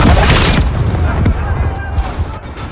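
A detonated charge goes off in Call of Duty Modern Warfare, a heavy boom that rolls into a long rumbling roar and fades under scattered debris and distant gunfire, with voices talking over it.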